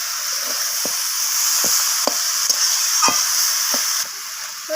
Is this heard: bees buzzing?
no